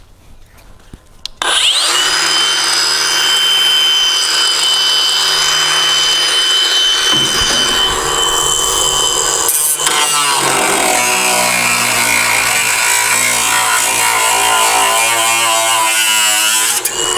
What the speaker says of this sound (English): die grinder and then just cut along this edge right here